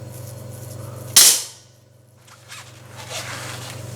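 A HWASAN double barrel gel blaster shotgun fires one sharp, loud thump-crack up close, quickly decaying over a steady low electrical hum, followed by faint handling rustles, no speech.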